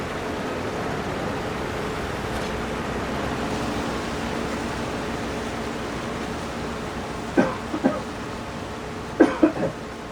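A person coughs off to the side of a room in a couple of short clustered bursts near the end, over a steady, even background hum.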